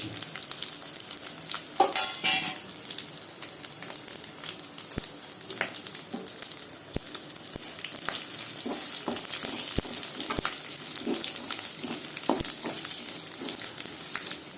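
Black pepper and mustard seeds crackle and sizzle in hot oil for a Tamil thavala adai tempering, with steady frying hiss and scattered sharp pops, close and fairly quiet, no talking.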